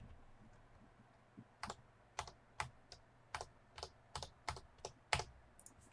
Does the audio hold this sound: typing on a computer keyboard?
yes